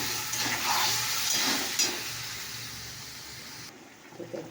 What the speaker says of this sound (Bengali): এখানে ওই দেখো মশলা কষা হচ্ছে